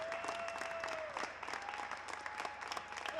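A crowd applauds steadily at a tennis doubles exhibition after match point, with dense, continuous clapping and a few whistles mixed in.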